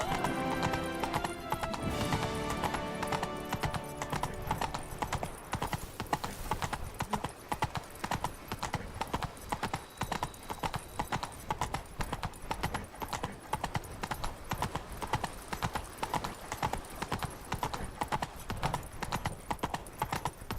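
Geralt's horse Roach gallops in Witcher 3, with fast, rhythmic hoofbeats pounding evenly for the whole stretch; a whinny and game sounds come at the start.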